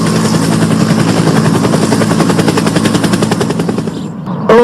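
A police helicopter's rotor chops in a loud, rapid, steady rhythm close by, running continuously with no voices before cutting off abruptly at the end.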